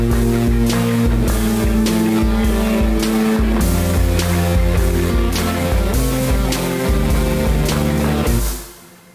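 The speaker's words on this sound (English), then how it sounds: "I brought back the instrumental guitar for the last half of the second chorus." Instrumental guitar returns for the last half of the second chorus in a song's chorus-out section, produced in FL Studio: a loud, dense full-band mix with sustained tones and steady beats that fades out sharply at the very end.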